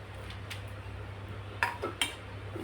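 Roasted red chillies and garlic being moved onto a plate while making chutney, with a faint background hum and two distinct clinks of a utensil against the dish near the end.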